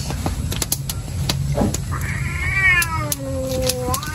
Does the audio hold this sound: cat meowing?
yes